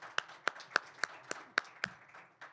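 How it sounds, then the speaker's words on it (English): A single person claps steadily at close range at the Awesome Games Done Quick 2025 Kusogrande live tournament, sharp even claps about three per second over a faint background murmur. "Big round of applause for Tustin."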